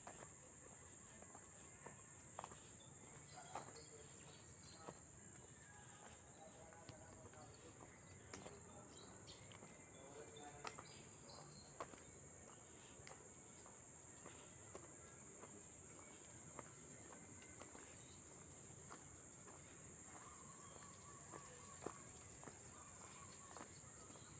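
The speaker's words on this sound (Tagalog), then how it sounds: "kuliglig, tsaka huni ng ibon, yun ang naririnig ko dito" Faint, constant cricket chirring fills an outdoor scene, with a steady high whine and scattered soft ticks and rustles.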